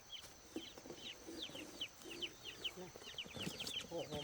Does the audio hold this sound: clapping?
no